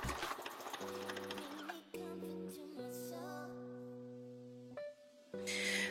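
A sewing machine hems and closes a fabric top, its motor whirring steadily in several bursts with brief pauses, fairly quiet with a continuous mechanical hum.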